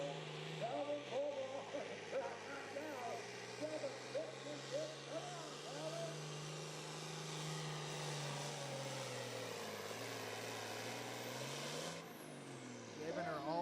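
A pulling truck at the 2023 Cookport Clash truck and tractor pull spools its engine up, a loud, sustained roar with wavering, rising tones as a voice talks over it.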